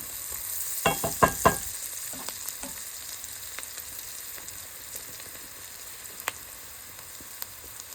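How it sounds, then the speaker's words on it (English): Onion cooking in hot oil in a pan sizzles with a steady, soft frying hiss, opened by a few sharp stirring clinks near the start, then quiet crackle and occasional ticks close by, with no talking. "A little onion. I'm going to cook that down for a few moments"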